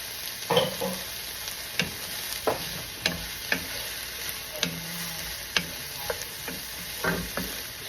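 Tomatoes, bitter gourd and sausage sizzle in a pan, with regular scraping clicks of a spatula stirring every second or so over a steady background hiss.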